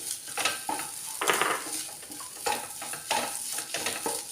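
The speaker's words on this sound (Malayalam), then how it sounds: "ഇനി മസാലയും മുട്ടയും കൂടെ നന്നായിട്ടൊന്ന് മിക്സ് ചെയ്യാം." A spoon stirs spicy masala and boiled eggs in a hot pan, scraping and sizzling in steady, close strokes with no voices.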